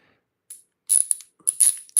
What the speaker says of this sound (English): This is a ratcheting one